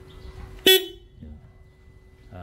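A 2024 BMW S1000RR sport motorcycle gives one short, loud, bright horn blast up close, followed by quiet background murmur and a faint low engine-like hum.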